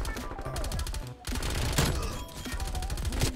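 Rapid automatic fire from an LC10 submachine gun in Call of Duty Cold War, fast rattling bursts with a brief gap, loud and close over game effects.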